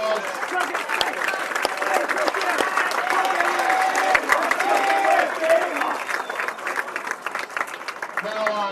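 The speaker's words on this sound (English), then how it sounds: "for all of our individuals, nice round of applause" An audience at a boys' district bowling event gives a sustained round of applause for individual winners, steady dense clapping in a large hall, with voices mixed in the crowd.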